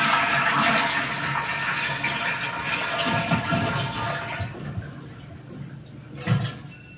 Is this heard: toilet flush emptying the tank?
yes